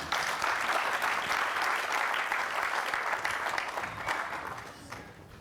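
A church congregation bursts into sustained, dense applause at a sermon, loud and even at first, then gradually thinning and fading toward the end.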